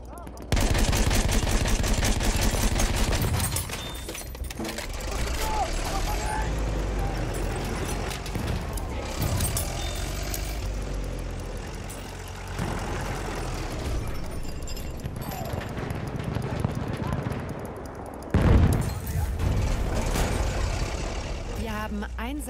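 In Battlefield 1, a tank's heavy engine rumble runs under repeated gunfire and machine-gun bursts, with occasional loud blasts, all at close range and with in-game voices speaking over the action.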